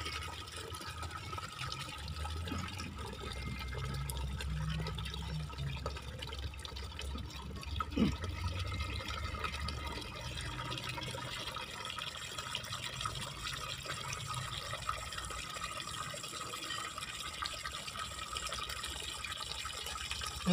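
Water from a coin-operated water vending machine tap runs steadily into a 20-liter bucket, a continuous rushing fill that stays at an even level throughout with no talk over it.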